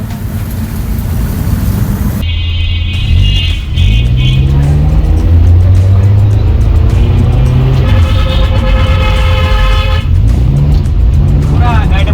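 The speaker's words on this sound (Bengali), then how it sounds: "এটার একজোস্টের সাউন্ড একটু শুনি চলুন" A car fitted with a modified exhaust is driven on a muddy road after rain. Its engine rumbles and revs steadily throughout, with rising and falling tones, close and loud, while people talk over it.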